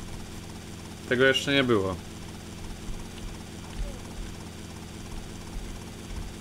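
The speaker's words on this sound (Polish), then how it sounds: "no to śledzimy helikopterem, tak?" Helicopter in the video game GTA Vice City, a steady rotor and engine drone running throughout at moderate level, with someone briefly talking over it near the start.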